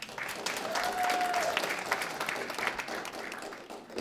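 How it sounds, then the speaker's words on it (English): Steady audience applause at a college startup pitch event, a dense wash of many hands clapping continuously and fairly close throughout. "So give a round of applause."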